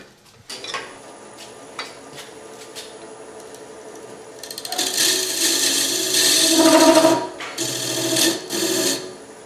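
Wooden ukulele resonator soundwell made of rough stave pieces turned on a lathe, a few light taps and a motor hum at first, then loud rasping cutting noise that swells, peaks and eases off.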